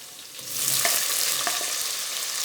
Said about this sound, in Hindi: इसे अच्छे से मिक्स कर लेंगे और इसे जो है ना अच्छे से भून लेंगे